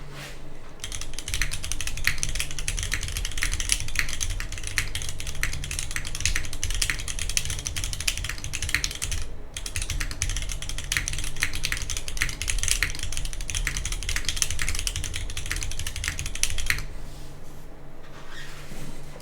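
Fast, steady typing on a GDK Labs DK1-TKL keyboard with Gateron Konsu switches, a brass bottom and GMK Lime keycaps: dense, continuous clacky keystrokes close up, with a brief pause near the end.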